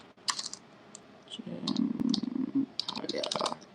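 Keyboard typing in short bursts of clicks at the start and end, with a louder voice-like murmur in the middle.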